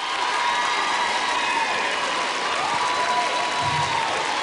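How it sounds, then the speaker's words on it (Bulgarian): A studio audience applauds and cheers for a duet on a televised singing contest. The clapping is loud and continuous, with crowd noise and faint tonal calls rising over the sustained applause. "Вашите силни аплодисменти за Джейсън и Стела!"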